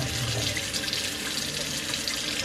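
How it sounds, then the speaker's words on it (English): Water runs steadily from a tap into a sink close by, a continuous full splashing rush with no pauses. "just shut off the water, first of all"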